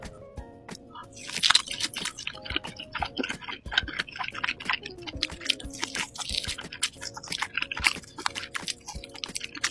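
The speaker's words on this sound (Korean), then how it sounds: "양갈비는 요 민트젤리랑 같이 먹어볼게요" Lamb ribs with mint jelly being chewed up close, wet squishy bites and crunches repeating in an uneven rhythm, no talking.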